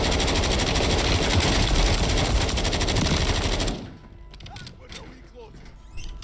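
Sustained automatic gunfire in Fortnite at Fortune's Keep, a dense rattling burst that runs loud for several seconds, then cuts to quieter scattered shots and movement.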